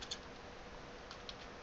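Faint, rapid typing on a computer keyboard at an Ubuntu terminal, a soft run of key clicks over a low background hiss, with no voices.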